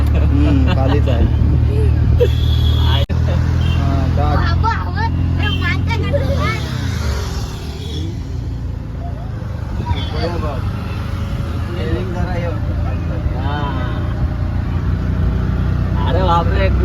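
An auto rickshaw engine drones steadily up close as the three-wheeler is driven through a village in Ratnagiri, its low rumble continuous beneath excited talking from people on board.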